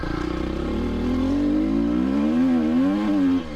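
A car engine held in second gear revs up loud and close, its pitch climbing and wavering in a long strained whine before cutting off.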